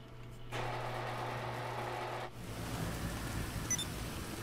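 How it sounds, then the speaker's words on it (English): Steady broadband rain hiss in Grand Theft Auto V Online starts abruptly after a quiet half second, with a low drone and a brief chirp near the end, no talking. "And we'll run in the rain up the street."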